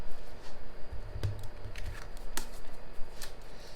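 Tarot cards shuffled and drawn from a deck: a close, irregular run of soft riffling rustles and sharp little snaps and clicks, with no talking.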